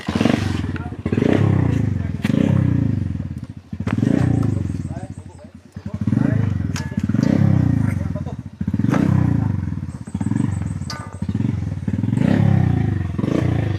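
Motorcycle ride on a rough road, the engine rumbling steadily and loud with repeated surges, under ongoing conversation between riders.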